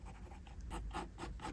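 A pen draws short curved strokes on paper, a soft, close scratching in a run of brief rhythmic sweeps, quiet and alone.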